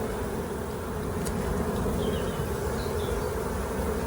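Honeybees buzzing around a beehive frame during a Bailey comb change, a dense, steady drone of many bees close by with no pauses.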